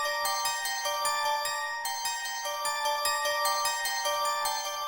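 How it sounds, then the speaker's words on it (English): Celesta melody layered with extra bells in the Purity preset, for a track: a bright, chiming pattern of quick repeated notes, steady and up close, with no voices. "starting with the Celesta, then we have some more bells coming in."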